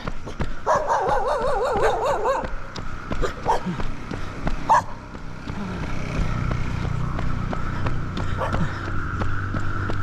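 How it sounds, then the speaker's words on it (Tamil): Dogs bark at night along a dark road during a long run, a burst of loud, close barks and yips early on, then scattered single barks over a steady background rumble. "நாய் கொலைக்கு பாருங்க."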